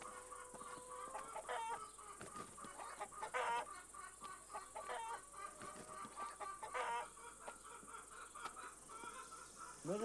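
Chickens cluck busily while a rooster calls out, a dense farmyard flock sounding close and steady with no talk over it, in a village setting where the birds are being sold.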